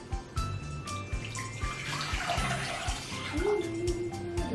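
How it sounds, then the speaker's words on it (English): Tap water is poured into a casserole dish for a lentil and rice bake, a steady running splash with faint background music and no talking. "The first thing that you do is add 3 cups of water or 3 cups of chicken broth."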